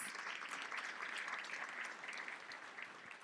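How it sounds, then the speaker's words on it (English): Sustained audience applause for a business forum panel, dense and steady throughout with a faint voice or two underneath, fairly distant and even in level. "Can I have a round of applause for these fantastic folks?"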